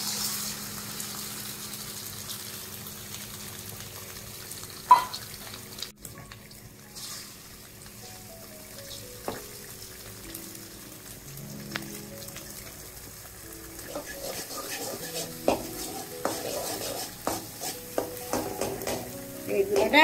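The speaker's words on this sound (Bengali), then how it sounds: "তেল গরম হয়ে গেছে, আমি ডিমের লঙ্কাটা দিয়ে দিচ্ছি।" An egg mixture with green chillies fries in hot oil with a low, soft sizzle, broken by occasional clinks and scrapes of stirring that grow busier toward the end.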